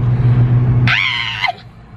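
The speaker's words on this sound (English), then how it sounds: "The screams are back, y'all." A single loud, high-pitched scream bursts out for about half a second behind the scenes, cutting through a steady low hum and leaving quieter background noise after it.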